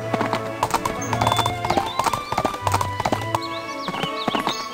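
Hooves clip-clop in a steady trot with an occasional whinny from a horse in the Barbie Riding Club video game, heard close and clear over game music.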